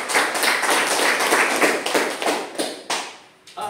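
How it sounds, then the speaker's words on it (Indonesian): Students in a classroom clap together in brisk, dense applause that stays steady for a few seconds, then thins out and stops. "Tepuk tangan dulu."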